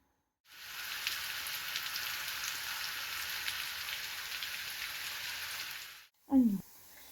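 Food fries in a pan with a loud, even sizzle that starts suddenly, holds for about five seconds and then cuts off. A brief voice sound follows.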